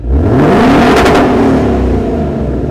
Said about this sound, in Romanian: 4 țevi de metal care se încing și care sună într-un mare, mare fel.